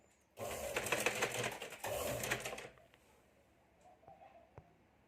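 A sewing machine runs in a fast, steady burst while stitching the folded strip of a katori blouse, stopping after about two seconds and leaving faint taps and handling sounds close by.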